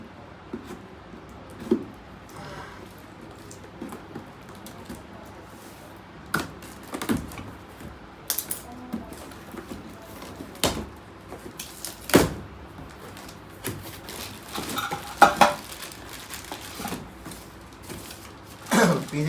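A 5-litre Pigeon pressure cooker is unboxed and handled, producing scattered quiet knocks, clunks and packaging rustles at irregular intervals over a low, steady room background.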